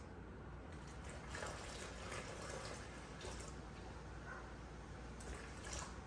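Warm water pours steadily into a bowl for bannock dough, a soft continuous splashing trickle, faint and close, with no voices.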